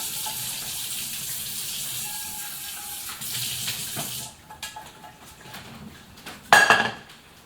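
Water runs from a kitchen tap while a food processor bowl is rinsed out, with steady splashing and a few clattering knocks of plastic and utensils, then a sharper burst of spray and clinks near the end.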